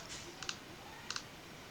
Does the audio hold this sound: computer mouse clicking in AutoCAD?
yes